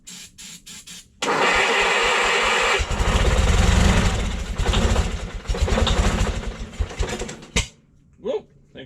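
A Bolens QT16 lawn tractor, left unstarted for over ten years, cranks with a few short bursts, then catches and runs loudly and unevenly, surging and sputtering before cutting out. A few faint sounds follow.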